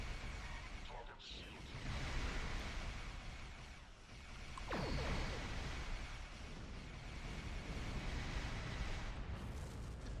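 Starship weapons fire and a homing torpedo in a Star Trek Online Foundry mission, heard as loud, rumbling blasts and explosive bursts that swell and fade over a sustained roar.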